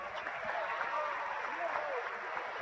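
Basketball crowd at a men's college game (Blue Dragon vs. Dodge City) claps steadily in appreciation, a dense even patter of applause throughout with broadband arena noise beneath.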